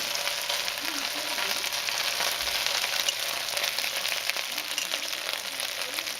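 Spare ribs browned over medium-high heat sizzle in the pan after fermented bean cake is added, a steady, close crackling hiss with soft stirring and no speech.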